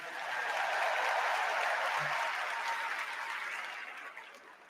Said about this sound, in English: Let's give Brian and Sandra another round of applause.